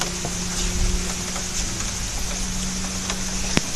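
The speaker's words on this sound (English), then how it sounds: "See, it's raining." Rain falling outside, a steady soft hiss with a few sharper drops close by and a low hum underneath, no one speaking.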